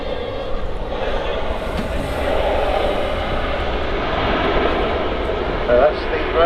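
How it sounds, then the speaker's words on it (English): A Ryanair airliner flies past at Manchester Airport, its broad, steady engine roar filling the air at a constant, moderate level throughout with no speech over it. "That's the Ryanair from Mallorca"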